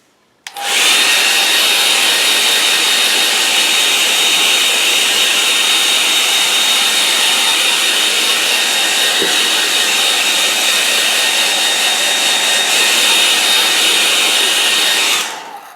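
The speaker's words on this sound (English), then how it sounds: "Right, so I'm going to dry that now." A dryer, most likely a hair dryer, blows on a wet item after a snowfall. It makes a loud, steady whooshing roar that switches on abruptly, holds for about fifteen seconds and then cuts off.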